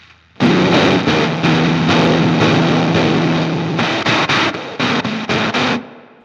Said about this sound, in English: Kind of has its own distortion.